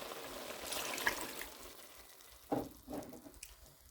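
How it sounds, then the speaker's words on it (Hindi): A cup of water poured into chicken and potatoes cooking in a pan sets off a steady sizzle, with a sharp hissing burst near the end followed by a second, smaller flare-up. "अब इसमें हम 1 कप पानी शामिल करेंगे ताकि ये"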